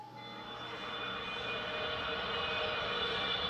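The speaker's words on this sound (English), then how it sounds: "Airplane landing." An airplane landing: a broad, roaring jet engine whoosh that builds gradually from moderate to louder and holds steady, a continuous rushing drone with a high whine on top and no voices.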